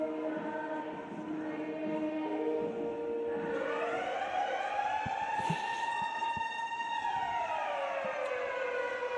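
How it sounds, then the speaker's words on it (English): A long wailing halftime siren at a rugby final rises and falls in pitch, sustained for several seconds over a faint background crowd and scattered distant knocks. "the halftime siren going off."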